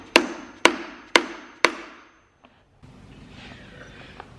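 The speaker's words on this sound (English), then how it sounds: "we're going to put a little microfiber on the end of this wooden hammer" A microfiber-wrapped wooden hammer taps on a Duramax LBZ/LMM diesel short block. Four evenly spaced, sharp knocks ring briefly, then fall quiet as faint shop noise follows.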